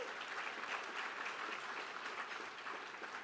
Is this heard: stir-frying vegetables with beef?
no